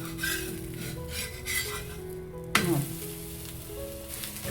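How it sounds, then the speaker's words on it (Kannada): A ragi flour rotti with green chilies sizzles on a hot pan, a steady frying hiss with scraping and stirring sounds and a sharp clatter partway through. "ರೊಟ್ಟಿ ಎರಡೂ ಸೈಡ್ ನೀಟಾಗಿ ಬೆಂದಿದೆ"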